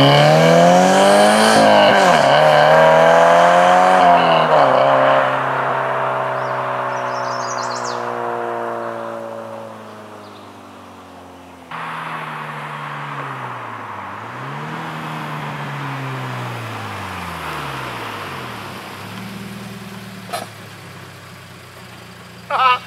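A Camaro engine revs loudly several times from close range, climbing and falling in pitch, then settles into a lower rumbling idle with further softer revs and a brief knock near the end.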